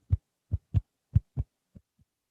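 Foley heartbeat of a patient monitor, faked by handling a piece of fabric near a stethoscope: seven soft, muffled thumps in uneven pairs that fade away at the end, alone with no talk.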